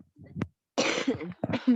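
A person with a sore, inflamed throat coughs close up. A short cough comes first, then a harsh double burst after a brief silence, and no other talk is heard.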